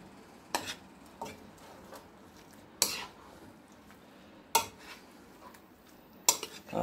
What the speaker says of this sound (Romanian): Mestecăm foarte puțin.